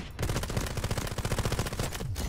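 Rapid, tightly spaced gunfire from a gun in Delta Force Hawk Ops, one continuous close burst of evenly repeating shots lasting about two seconds.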